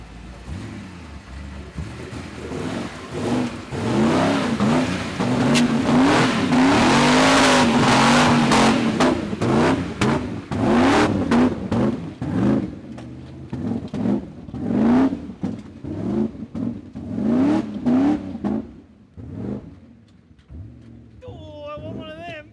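A diesel engine in a 40 Series Land Cruiser revs loudly and repeatedly, rising and falling through a series of throttle blips over a rumbling idle, close by, with some voices mixed in.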